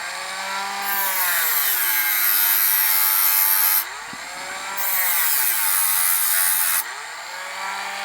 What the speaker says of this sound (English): It's this H-shaped part here, so we'll just cut that out. Use the Dremel.